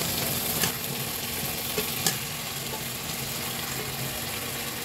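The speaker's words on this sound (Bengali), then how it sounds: "এখন আমি এটার ভিতরে শিং মাছগুলো দিয়ে দিচ্ছি" Shing fish (stinging catfish) dropped into hot oil and cooked-down spice masala in a pan, giving a steady close sizzle and frying hiss with a few soft clinks and stirring scrapes; no talking.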